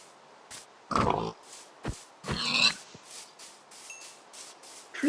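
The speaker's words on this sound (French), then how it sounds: "On va tuer un cochon." Several short pig grunts and oinks in Minecraft, sounding in scattered bursts close by against near silence, with a few faint game clicks between them.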